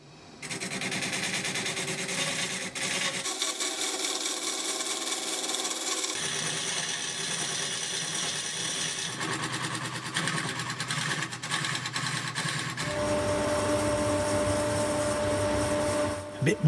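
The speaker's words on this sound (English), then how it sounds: "A bit more sanding" A wooden ring spinning on a woodturning lathe is sanded in a steady, continuous abrasive whir with a motor hum beneath, fairly loud and close, shifting in tone as the pressure changes.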